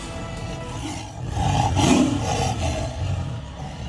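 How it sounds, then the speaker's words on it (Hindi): Two tigers fighting beside stopped safari vehicles at Ranthambore Tiger Reserve growl and snarl, and a rising, rough roar peaks near the middle before easing back to a low rumble. "बाघों के इस भिड़ंत का वीडियो भी सामने आया, जहां सफारी गाड़ियां रुकी हुई है और यात्री दहशत में है और बाघ एक दूसरे से गुर्रा रहे हैं।"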